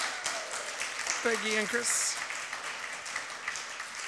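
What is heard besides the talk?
audience applause for young artists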